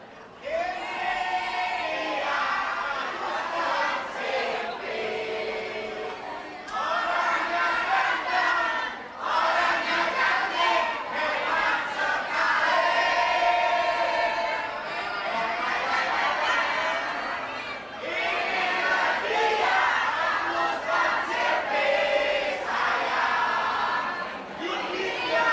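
Crowd of participants chanting a team yel-yel cheer together at a gathering, loud and sustained voices rising and falling in waves across the whole stretch with brief dips between phrases.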